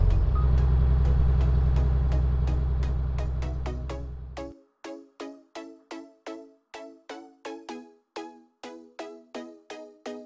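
A tow truck backing up sounds a repeated electronic reversing beep at a steady rhythm, first under a loud rumbling engine, then ringing out clearly once the engine noise drops away.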